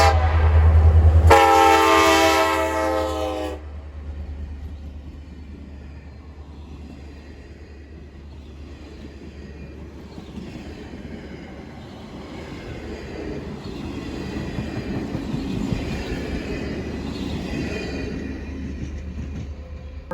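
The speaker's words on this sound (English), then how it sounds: "the flagship of the railroad, the Denali Star, making one of its daily summer runs north to Fairbanks" Alaska Railroad's Denali Star passenger train on its summer run north to Fairbanks: a loud horn blast opens, then the steady rumble and rolling clatter of the cars passing, with no voices.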